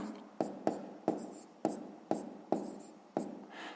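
Chalk or marker writing on a board during a fifth-grade fraction lesson: about eight quick, sharp strokes in an uneven rhythm, each tapering off, close and clear with no talking.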